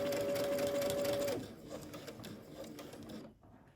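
A sewing machine stitches fabric triangles together along a 5/8 inch seam allowance, running as a steady close whir for about a second and a half before stopping, leaving quiet room noise.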